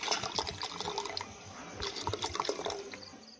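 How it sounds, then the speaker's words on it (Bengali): Hot water and then cold water pour into a bowl in a village kitchen, a steady splashing liquid stream running for a few seconds with small bumps and clinks. "এই বাটির মধ্যে এবার কিছুটা গরম জল নেব এইভাবে, আর কিছুটা ঠান্ডা জল আমি দিয়ে দেব"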